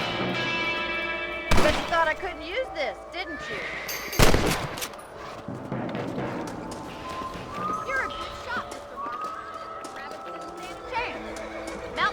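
A rifle fires twice in Red Dead Redemption, each shot a loud, sharp crack well apart from the other, over a busy game scene with hoofbeats, ambience and voices talking.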